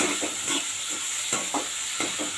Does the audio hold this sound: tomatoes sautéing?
yes